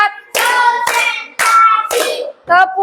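A group plays a clapping game, chanting in unison while a sharp clap marks the start of each spoken count in a steady, regular rhythm.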